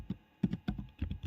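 Keys clatter on a computer keyboard in a few quick bursts of typing, crisp and close, with short pauses between the groups of keystrokes.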